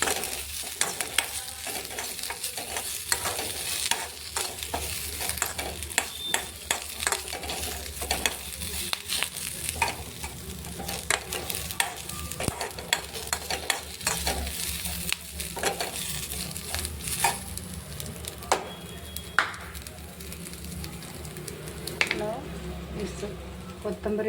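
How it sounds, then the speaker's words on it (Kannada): Tadka spices sizzle and fry in hot oil while being stirred, a steady close crackle with repeated scraping strokes throughout, with a voice speaking briefly over it. "ನೆಕ್ಸ್ಟ್ ತಡ್ಕ."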